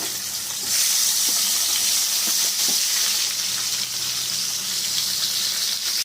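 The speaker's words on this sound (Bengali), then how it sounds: "এর মধ্যে আলুগুলো ভেজে নেব।" Potatoes frying in hot oil in a pan, a steady broadband sizzle and crackle held at an even level throughout, close up, with occasional small pops and no talking.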